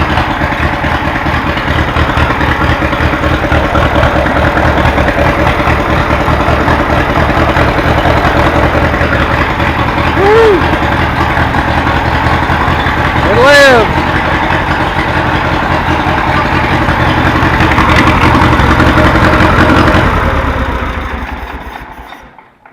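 A Case VAC tractor engine with a freshly rebuilt carburetor idles loud and close in a steady low chug, with brief whistle-like squeals in the middle before it winds down at the end.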